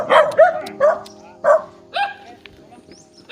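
A dog barks several times in short, close yelps and woofs, spaced about half a second apart, with people talking in the background.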